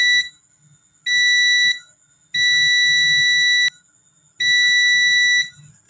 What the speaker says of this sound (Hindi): ये बीप कर रहा है, तो बीप जैसे करेगा तो इसका मतलब ये चीज़ें कनेक्टेड है